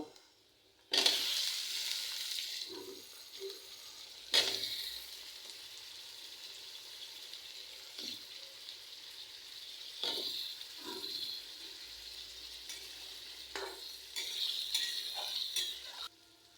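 Potato pieces sizzle steadily in hot oil in a pan while cooking a raw fish curry, with a utensil stirring them in scraping bursts over the constant close-up frying hiss.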